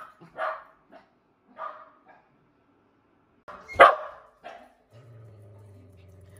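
A dog barks in a few sharp, separate bursts indoors, with one loud close bark near the middle and quieter yips around it, followed by a low steady hum.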